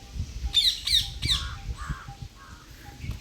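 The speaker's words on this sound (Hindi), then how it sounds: "कौवा भी बोल रहा है, पैरट भी बोल रहा है।" Three quick harsh squawks from birds outdoors near a temple, followed by softer calls, matching a crow cawing and a parrot squawking; moderately close with faint background noise and no talk.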